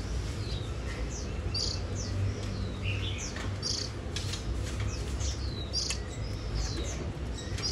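Caged red-headed lửa chuyền songbird gives short, scattered high chirps over a steady low background hum.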